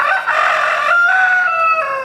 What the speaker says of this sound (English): Neighbors are mad because the rooster is loud.